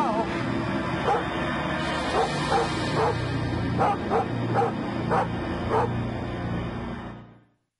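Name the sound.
dog barking and whimpering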